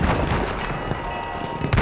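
Artillery barrage in Battlefield 1 during trench fighting, a steady heavy rumble of distant shelling with a couple of sharper thuds, loud and continuous.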